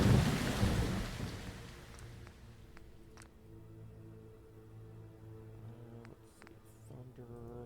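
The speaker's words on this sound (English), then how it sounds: "that is bad weather." In Fallout London, a low rumble of thunder fades into steady falling rain, with faint scattered clicks over the soft, continuous patter.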